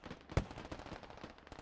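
In the game Squad, U.S. soldiers fire on a rocket pod: one sharp, loud shot followed by a ragged run of quieter rapid gunfire cracks at a distance.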